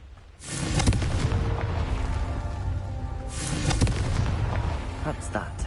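A Confringo blast spell in a video game goes off as two heavy, rumbling explosion booms, the first near the start and the second a few seconds later, each trailing into a long low roar.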